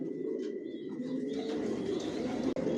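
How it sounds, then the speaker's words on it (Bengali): Racing pigeons in a loft, master and running pairs, coo softly in a steady low murmur, with a few faint chirps over a dense, continuous background of many birds. "এখানে যে কবুতরগুলো দেখতেছেন এগুলো আমার মাস্টার পেয়ার"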